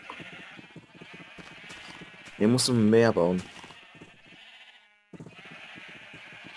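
Repeated sheep bleats from Minecraft, a large flock penned on a farm in the Unleashed Minecraft Town modpack, run steadily under someone talking, with a louder burst midway and a brief drop to silence before the bleating resumes.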